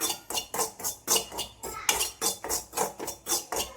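Fish curry masala with chili powder being stirred in a pan, a spoon scraping and knocking the metal in a steady rhythm of about three strokes a second, close and fairly loud with no talk.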